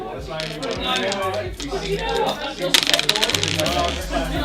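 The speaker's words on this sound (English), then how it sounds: "Give them one final roll." Three dice rolled and tumbling during a magic trick, a quick rattling clatter of small hard impacts clustered near the middle, with a person talking over and around the sound.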